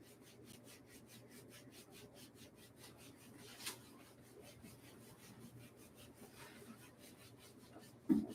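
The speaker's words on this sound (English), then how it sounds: "your palm on the spleen on the top of the foot, and you rub back and forth like this" A palm rubbing back and forth on the top of a foot during a qigong self-massage, a soft rhythmic swishing of skin in fast, even strokes, close and quiet.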